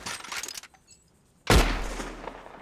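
A single gunshot in Red Dead Redemption 2 cracks out loud and close after a brief near-silent pause, followed by a booming tail that rings out and fades across the final second, with some busy game noise before it.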